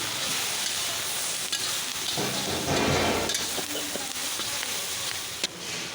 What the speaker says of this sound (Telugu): అలాగే ఉప్పు అదే ఉప్పు ఇలా ఆయిల్లో అయితే మంచిగా వేగనివ్వాలి